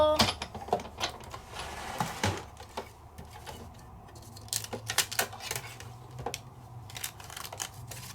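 A manual die-cut machine rolls a Spellbinders kit through its rollers, producing a run of close, irregular clicks and ratcheting crunches with short gaps between them.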